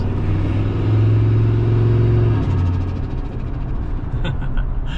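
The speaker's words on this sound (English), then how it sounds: "that's why it's making that chattering noise when I let off the gas" A sleeper turbo F150 truck runs with a deep engine drone that drops sharply when the throttle is lifted, followed by a rapid fluttering chatter from the blow-off valve, loud and close.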